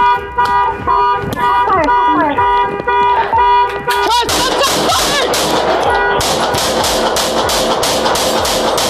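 Police officers fire repeated gunshots in loud rapid bursts, nearly continuous once the heavy volley starts. An alarm-like tonal wail and other sharp sounds come before it.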